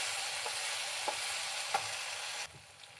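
Tomatoes softening in a frying pan on low heat give a constant close sizzle, broken by a few light clicks of stirring.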